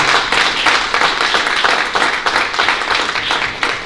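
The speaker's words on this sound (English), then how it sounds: "Big round of applause for them." A crowd applauds award recipients at a Black history event in Canada: dense, continuous clapping that stays loud and even throughout, with no speech over it.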